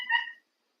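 A cat gives a single short, clear meow close to the microphone, alone and followed by silence.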